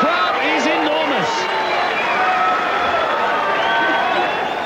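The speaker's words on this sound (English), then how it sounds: "This crowd is enormous." A huge rugby league crowd at Carlaw Park in Auckland, a steady loud roar of voices with scattered shouts and cheers, continuous throughout, with a commentator talking over it.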